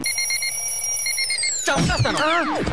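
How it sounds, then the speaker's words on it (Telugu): An alarm clock rings loudly with a steady, high electronic tone that stays alone and close in a film scene, then twists and warbles toward the end. "పొద్దున 6ంటికి అలారం పెట్టమన్నాను కదరా"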